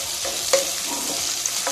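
Onion, curry leaves and dried chillies fry in hot oil with a close, steady sizzle, broken by a few sharp spatula scrapes and taps against the pan; no talking.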